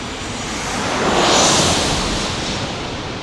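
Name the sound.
San Jose flight airplane landing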